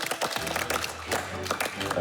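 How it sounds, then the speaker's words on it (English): Hands clapping during a cooking competition judging, a scattered, fairly faint patter of applause mixed with talk and room noise. "I'm trying to give them a clap"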